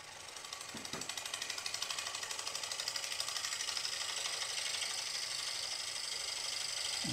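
A bowl gouge cuts across a bowl spinning on a wood lathe, a steady rapid chattering drone that builds after a brief thump and holds level, quiet and alone.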